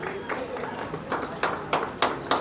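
Audience clapping at a Shyam Steel event in Patna, starting as scattered claps and building into several louder, rhythmic bursts of applause toward the end.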